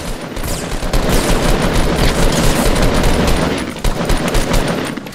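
Sustained automatic gunfire in the Fortnite video game, a dense, loud stream of shots that barely lets up, with no voices over it.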